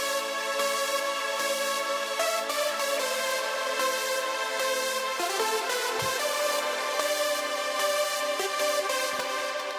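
A bright lead synth group in Ableton, blending dry, reverb and delay channels, playing a rich sustained chord-like melody with dense harmonics and rhythmic chopped pulses, loud and continuous with a couple of low thumps.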